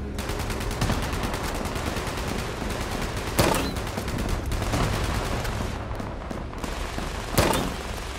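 Gunfire from Fallout 76's Nuclear Winter mode rattles in steady rapid bursts throughout, with a few sharper, louder shots standing out near the beginning, middle and end. No voices are heard.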